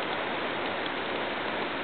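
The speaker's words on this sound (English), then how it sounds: "It's beginning to rain again." Rain falls steadily outdoors near a flooded creek and park, an even, continuous hiss with no voices.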